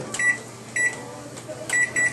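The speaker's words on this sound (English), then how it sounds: "Okay, so now we just throw this in the microwave for a minute." Microwave oven running while heating a mug cake, a steady low hum with faint intermittent tonal pulses, fairly quiet and without talk.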